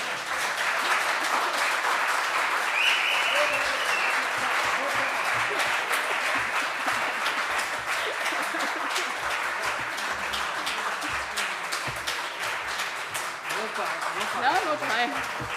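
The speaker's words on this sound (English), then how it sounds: "Applause." Conference audience applauding at the close of the event, dense sustained clapping across the whole stretch, fairly loud in a large hall, with a voice briefly audible over it.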